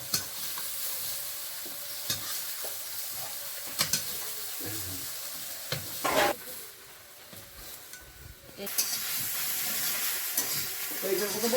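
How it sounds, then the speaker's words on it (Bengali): Soya chunks sizzle in a pan while a utensil scrapes and knocks against it, with a constant hissing layer under the occasional clatter. "সয়াবিনটা ভাজা তুলে নেবো"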